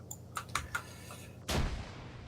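Explosions in the combat game Arma: a few sharp distant cracks followed by one heavier booming blast that rumbles away.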